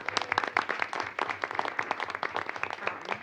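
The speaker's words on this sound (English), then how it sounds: "let's give her a round of applause" Audience members at a city council meeting clap, a modest group whose individual claps stay distinct, close and rhythmic for about three seconds, with no talking over them.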